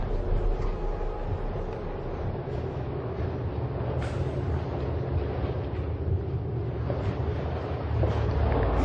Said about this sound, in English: there's a freight train and there's the wind